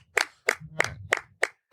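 Six sharp hand claps in a steady, evenly spaced rhythm, close and crisp, with a faint low murmur between them and no talk.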